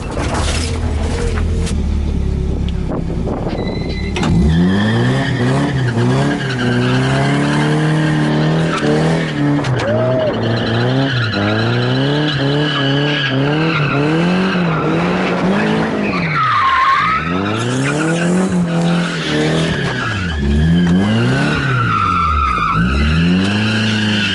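A Nissan S13 with a full exhaust revs hard and loud through repeated rising and falling engine pulls, close up, while its tires squeal and skid in long stretches across the run.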